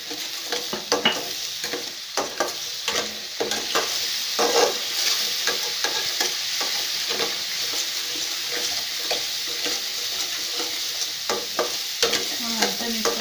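Turmeric sizzles in hot oil while a utensil stirs it steadily for a mutton curry, with continuous close frying crackle and repeated scraping strokes against the pan.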